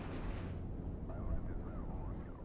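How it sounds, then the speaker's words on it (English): A heavy door slams shut in the video game STALKER: Shadow of Chernobyl with a loud, booming clang that echoes and slowly fades. "the sound of his door closing. It's loud and clangs."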